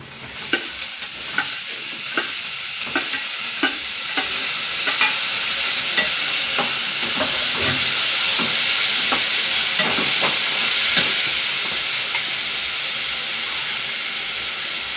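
Onions and finely chopped carrots fry in a pan, a steady hiss with regular scraping strokes of a spoon at first, then a continuous close sizzle, with no voices.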